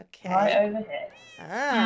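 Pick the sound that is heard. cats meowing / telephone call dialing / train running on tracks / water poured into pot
cats meowing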